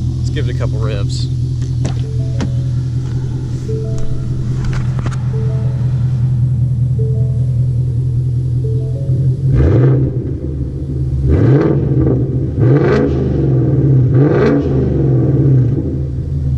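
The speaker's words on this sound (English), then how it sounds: "Give it a couple revs." Car engine idling steadily, then revved several times in quick blips that rise and fall, loud and close with a deep rumble between the revs.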